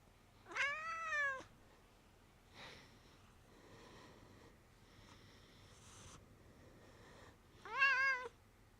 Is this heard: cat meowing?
yes